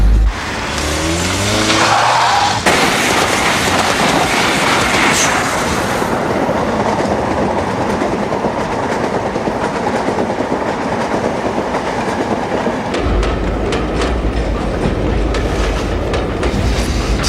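A Manchester to Leeds passenger train runs on the rails, loud and close, a steady broadband rumble and rattle of wheels with a rising rush at the start and a deeper drone toward the end.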